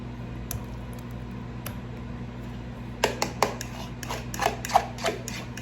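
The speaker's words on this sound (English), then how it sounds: "So she gave me the job of smashing, that is 4 very ripe bananas." Very ripe bananas being mashed for banana bread: a run of soft, squishy presses and light clinks of a utensil against a bowl, clustered near the end over a quiet kitchen background with a low hum.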